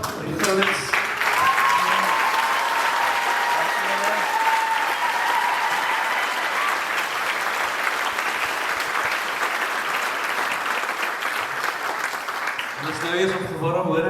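A church congregation at an NG Kerk service in Gouritsmond breaks into long, full applause after choral worship music, with a sung note lingering early on and voices emerging as the clapping fades near the end.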